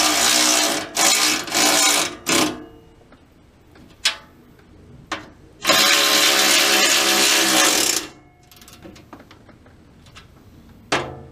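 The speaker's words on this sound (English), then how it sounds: "So we're just going to tighten these 310s" A power tool tightens bolts on a Toyota Prius catalytic converter shield in loud, rattling bursts of varying length, the longest lasting a couple of seconds, separated by quiet gaps and a few sharp clicks.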